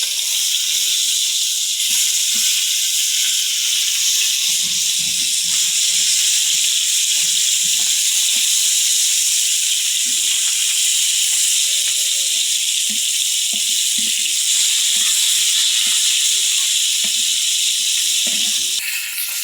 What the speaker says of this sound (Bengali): মাছগুলো উল্টে দেই।